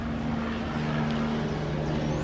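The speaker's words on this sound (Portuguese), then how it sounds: "Nunca tem helicóptero aqui, pô. Só para atrapalhar o vídeo." A helicopter passes overhead, heard as a continuous droning rumble with a steady engine whine that holds at even loudness throughout.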